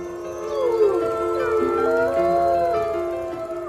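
Several wolves howl together in long, overlapping, gliding calls that rise and fall, a loud chorus with no talk, heard in a Spanish wildlife documentary about animals that changed history.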